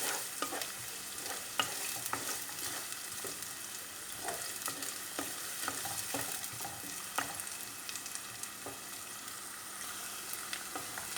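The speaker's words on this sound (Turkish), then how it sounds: "Şimdi arkasından soğanları koyuyoruz. Ve soteliyoruz." Onions sizzle and fry in a pan, with frequent scraping and stirring clicks from a utensil close by.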